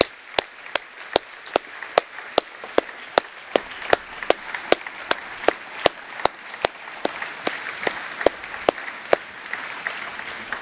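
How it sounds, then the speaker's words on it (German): Audience at a GDCh award ceremony for the Liebig medal clapping in unison, with sharp, evenly spaced loud claps over a softer wash of applause that keeps a steady beat throughout. "Und nochmal einen großen Applaus"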